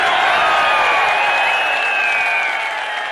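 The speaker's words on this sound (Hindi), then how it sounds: "हाथ उठाकर तालियों की गूंज में बताइए कि आप इमरान खान से कितना प्यार करते हैं" Dense, sustained applause and cheering from a large crowd at a political rally for Imran Khan in Kotli, Kashmir, a steady roar of clapping that holds loud throughout.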